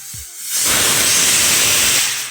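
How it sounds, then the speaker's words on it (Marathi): Pressure cooker cooking chole lets out a loud, sustained steam whistle and hiss that swells in after a brief pause and holds steady for well over a second before easing off. "आता आपल्या छोलेची शिट्टी पण व्हायला कुकरची"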